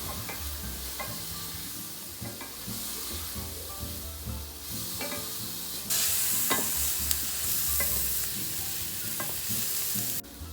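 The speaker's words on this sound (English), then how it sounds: "Stir it in with the onions." Steady frying sizzle of garlic and onions with intermittent clinks and scrapes of a utensil stirring them in a pan, the hiss growing louder partway through.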